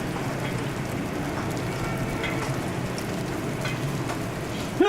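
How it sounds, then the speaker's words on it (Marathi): Rain falls steadily during the Nashik flood as an even, moderate hiss of drops on surfaces. It continues without a break, with a brief thump at the very end. "पावसाचा थोडासा आवाज कमी वाटतोय"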